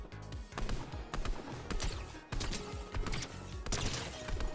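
Fortnite gunfire sounds as a string of sharp, loud shots in quick bursts, spread evenly over a few seconds with no talk.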